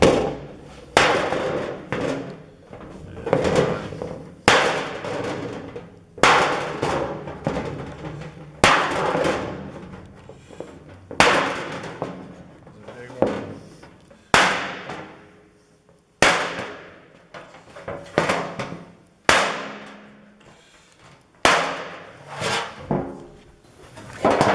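A hammer strikes sheet metal while tucks are worked into a rear fender, about a dozen loud, sharp, ringing blows spaced a second or two apart, each with a short decaying ring, no talk.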